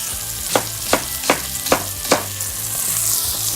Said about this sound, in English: Give it a nice stir around.